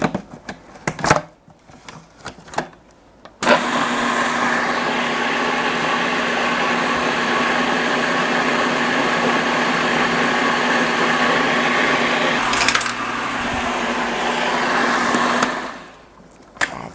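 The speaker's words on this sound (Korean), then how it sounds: "자, 한 번 더 갈아줄게요." A kitchen blender grinding ingredients for a vegan dish with a vinegar dressing, loud and steady whirring for about twelve seconds after a few clicks and handling knocks, then winding down to stop.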